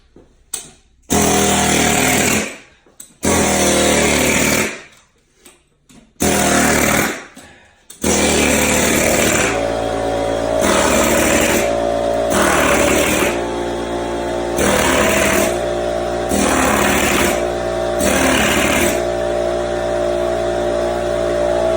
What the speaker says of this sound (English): pop this loose with the air hammer and the chisel